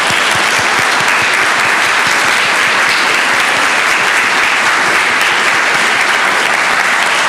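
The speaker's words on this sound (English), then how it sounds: "let's give a round of applause to Madeline" A congregation at its annual meeting applauds a retiring staff member, producing loud, sustained, even clapping from many hands that fills the room from start to finish with no voices standing out.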